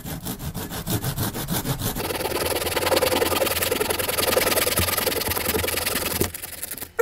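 A hand saw cuts diagonally through cork board, scraping in quick rhythmic back-and-forth strokes up close, then settling into a steadier rasp before stopping abruptly.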